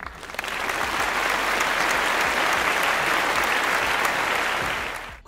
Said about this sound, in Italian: mi merito un applauso